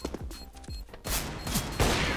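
Sniper rifle shots ring out in a Counter-Strike style video game, sharp loud cracks followed by a burst of rapid gunfire, heard alone without talk.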